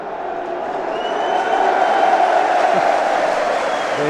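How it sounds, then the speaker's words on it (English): Football crowd at a Hull City versus Bristol Rovers match, the Bristol fans joining in a Mexican wave; a broad, distant roar of cheering swells after the first second and holds steady and loud. "The cheer was because the Bristol fans did join in"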